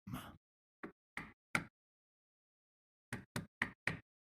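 Knocking on a door in The Elder Scrolls V: Skyrim: a few sharp raps in an irregular pattern, first a short knock and then a quicker run of four, loud and close with silence between.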